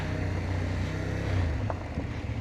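A CFMOTO 800MT-X motorcycle engine revs in false neutral: a dense, steady mechanical roar close to the microphone, with wind rush and no voices.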